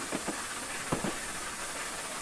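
An A4 Bittern steam locomotive runs in Train Simulator, a steady hiss with a few soft rhythmic chuffs or clicks early and midway, moderately quiet.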